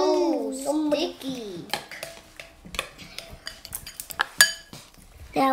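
A utensil scrapes and clinks against a bowl as a child mixes sticky homemade slime, with irregular knocks and clatters heard under excited child speech.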